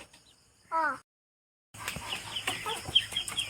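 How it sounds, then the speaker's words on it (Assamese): A single hen's cluck sounds close by, then a brief silence gives way to rustling and faint clucks and chirps around a coop of local chickens. "আমি মুৰ্গী গঁৰালত আহিছোঁ মুৰ্গী ধৰিবলৈ"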